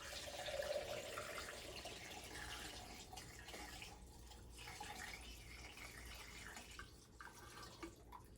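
Liquid poured through a funnel into a quart measuring container while herbal preparations are measured, a soft continuous trickle and splash that fades to a quieter flow, close and with no talking.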